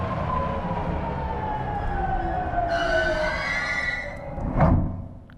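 A train in the video game Stray pulls in at the end of the line with a long, gliding, whining tone that falls slowly under a steady rumble. A brief higher screech and a soft thump follow near the end.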